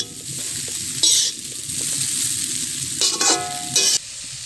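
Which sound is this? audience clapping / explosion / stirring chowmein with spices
stirring chowmein with spices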